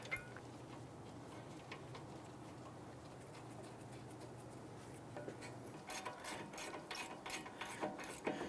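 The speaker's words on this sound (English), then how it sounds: "And we'll go ahead and snug these bolts down." A ratchet snugs down the rear caliper bracket bolts on a 2011-2019 Ford Explorer during a brake job. Quiet mechanical handling gives way to quick bursts of close, crisp ratcheting clicks near the end.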